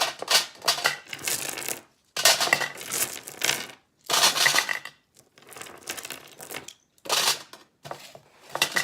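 Rocks are set into a pot one after another to weight it down, making bright clattering and scraping knocks in short bursts with brief quiet gaps between them.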